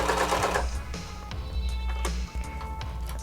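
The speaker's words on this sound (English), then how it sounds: "Go ahead and sew 2 rounds of straight stitches." A sewing machine runs straight stitches on an elastic harness, its motor whirring steadily at close range, with a brief louder burst at the start and a short pause partway through.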